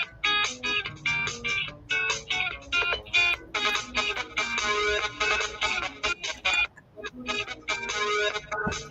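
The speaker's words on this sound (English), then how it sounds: "I think that's Lisa's phone" A mobile phone ringtone rings repeatedly near a work table at home, a melodic pattern of short bright tones continuing for several seconds, with background sounds and faint talk.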